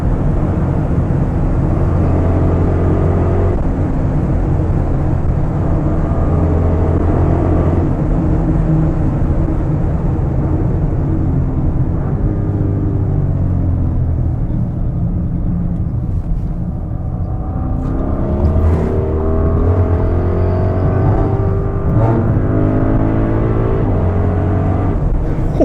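A 2023 Audi RSQ8 accelerates hard up a hill. Its loud, close engine drone holds steady throughout, with tones that climb as it pulls, and no one speaks.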